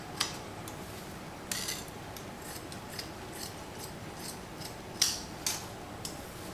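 Tailor's scissors snipping cloth for a chudidar gathering pant, a series of sharp, crisp cuts at irregular intervals, close and fairly quiet over a soft steady room hiss, with no talking.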